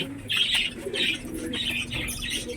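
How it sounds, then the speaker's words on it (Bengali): Several pigeons coo nearby in a steady series of soft, throaty calls, with faint wing flutters and light chirps in the background. "এত সুন্দর পায়রা, এত সুন্দর পায়রাগুলোকে আমরা নিজে হাতে মারছি"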